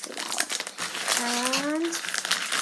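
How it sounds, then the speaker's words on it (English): Plastic packaging on a ToucanBox children's craft kit being peeled open, a close, continuous crinkling and crackling with a brief tearing swell partway through, and a faint voice in the background. "I just realized there's a peel thing, so you just pull that out."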